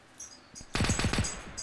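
Automatic gunfire in an Arma 2 World War II mod: a few scattered shots, then a rapid close burst of about four loud reports over a constant background.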